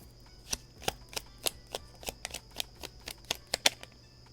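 A deck of tarot cards is shuffled in a steady series of crisp, close snaps and riffles, roughly a dozen even beats in a quiet room with no talking.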